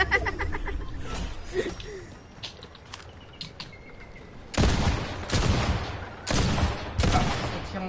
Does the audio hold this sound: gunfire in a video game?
yes